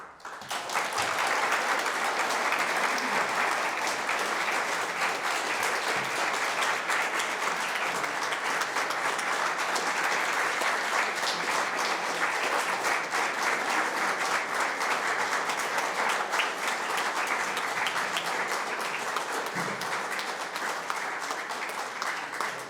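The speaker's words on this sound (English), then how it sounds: "I'm not sure that Betsy saw that standing ovation" Standing ovation at a Sunday church service, a steady, full wash of applause from a large congregation lasting over twenty seconds with little change in level, fading only slightly near the end.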